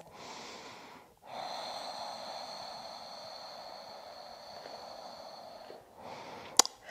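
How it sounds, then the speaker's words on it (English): Slow, steady breathing during a yoga shoulder-release session: one long, even airy breath held for several seconds between shorter breaths, close and fairly soft with no talking. "Slow, steady breaths."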